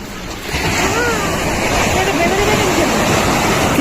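Loud, steady roar of sea surf rolling in at Digha beach, close and continuous with rushing wash and wind buffeting the microphone.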